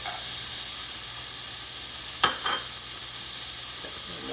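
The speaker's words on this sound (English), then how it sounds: "Next I'm going to add my aromatics. That's my mirepoix, my onion, my carrots," Onion, carrots and celery mirepoix sizzle loudly in a hot pan for cassoulet, a dense steady frying hiss with a brief scrape of a wooden spoon stirring midway and no talk.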